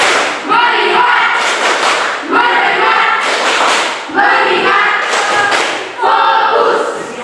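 Students in a classroom perform a rhythmic focus clap, with four loud bursts of patterned clapping and voices mixed in, each burst separated by short pauses.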